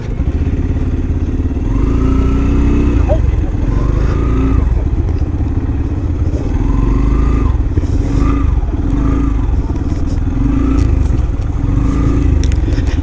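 Motorcycles ride slowly downhill on a white china clay hill, their engines a steady close rumble with occasional revving swells and loose clatter, continuous throughout.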